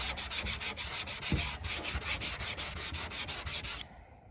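Hand sanding of scratches out of bare metal before priming: rapid, rhythmic back-and-forth rubbing strokes, close and loud, repeating evenly for nearly four seconds before stopping abruptly, with no talking.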